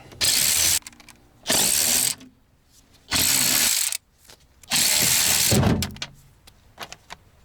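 A ratchet wrench loosens 10 mm bolts on the driver door panel of a Toyota Century, in four sharp bursts of rapid clicking about a second long each, with short pauses and a few faint knocks between them.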